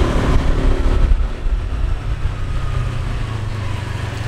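Riding in a car on a road in Phuket, Thailand, with three people on board: a steady low engine and road rumble throughout, loud and close, with no talk.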